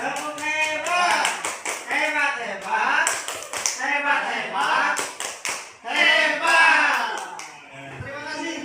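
A class performs a rhythmic group clapping routine, chanting together in time with bursts of sharp, synchronized claps that come in repeated patterned phrases, loud and close.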